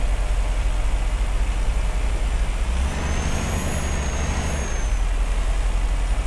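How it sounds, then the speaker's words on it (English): A truck rumbles steadily under broad roaring noise, heard from inside a car on a UK road, growing louder midway as it passes close by, with a faint high whine. "Oh, you hear truck sounds?"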